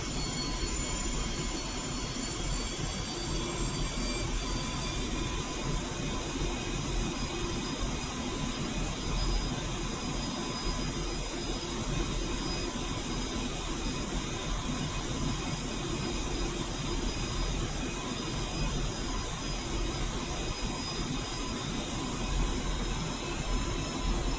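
Airliner jet engines at full thrust on the runway in a flight simulator game, a steady, loud roar with high whining tones held unbroken throughout and no voices.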